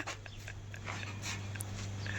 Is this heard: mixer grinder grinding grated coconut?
no